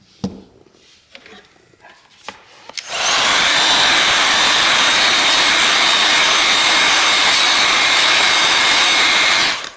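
Heat gun blowing hot air onto the back of a BLU G74 smartphone, a steady loud roaring whoosh that starts abruptly after a few seconds of quiet handling noises and continues without pause.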